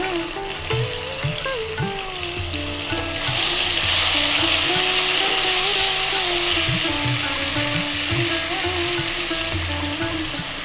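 Tomato pieces hit reddened potatoes frying in hot oil for a fish curry, and a loud sizzle swells up and holds steady, with spoon scrapes and stirring knocks close by.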